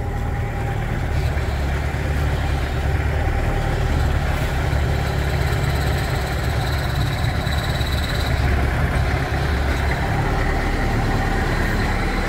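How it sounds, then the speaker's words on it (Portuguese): A Toyota Hilux SR pickup with 464,000 km and a worn clutch runs at idle, a loud, steady engine rumble with a faint whining tone layered on top throughout. "Escuta o barulho da embreagem."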